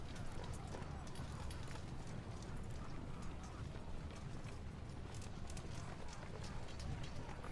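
Massed horses gallop across the battlefield in Ultimate General: American Revolution, a continuous dense rumble of hooves pounding steadily without a break.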